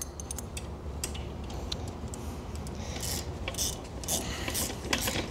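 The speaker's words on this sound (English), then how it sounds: "If you have two ratchets, oh my goodness, it's so much easier." Ratchet wrench tightening the assembly bolts on a 422SB swing, giving a steady run of close, fast metallic clicks that continue through the whole stretch with no talking.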